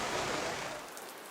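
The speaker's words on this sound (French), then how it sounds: "Comme vous pouvez voir, là, il mouille pas mal." Steady rain falls at a stock car race track, a soft, even hiss that fades slightly toward the end with no other sounds on top.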